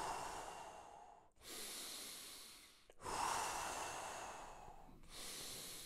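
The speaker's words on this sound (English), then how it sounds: "Breathe deeper, use your lungs." Deep, slow breaths during a guided breathing session, with long airy inhales and exhales close to the microphone and brief pauses between them, and no talking.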